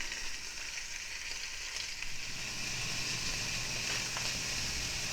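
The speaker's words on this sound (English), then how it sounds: "keep turning them as you go. You want to get all sides browned." Beef short ribs searing in a hot pan a few at a time, a steady, loud, continuous sizzle and crackle of browning meat with no talk.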